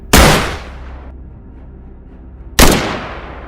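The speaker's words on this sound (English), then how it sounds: "With a clean, well-placed shot, we brought the animal down." Two loud, sharp rifle reports ring out during a wild boar hunt, a few seconds apart, each with a long fading echo across open ground.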